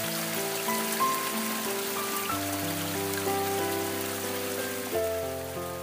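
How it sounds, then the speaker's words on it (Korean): Clear water of the Okryucheon stream flowing in a forest valley in Ulsan's Dong-gu, a steady close wash of splashing and trickling with no voices, layered under sustained musical tones. "옥류천에는 맑은 물소리가 우리를 반깁니다"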